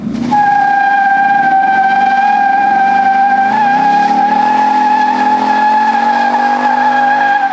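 A new Ford Mustang GT does a line lock burnout, tires spinning and squealing in a loud, sustained high screech over the steady roar of the engine, close by and unbroken for the whole stretch.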